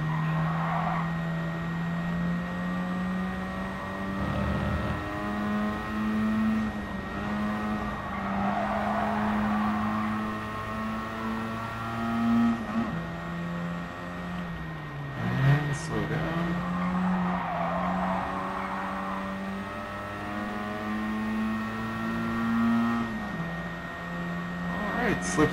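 Mazda RX-7 GT-X (FC) '90 race car in Gran Turismo Sport, its rotary engine holding a steady high drone while slipstreaming past another car, pitch dipping briefly around a shift, with a voice talking over the engine note.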